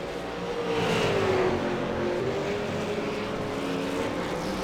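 V8 Supercars race cars at Canadian Tire Motorsport Park, a steady loud engine roar with a rising, shifting whine as the cars accelerate toward a corner, continuous throughout.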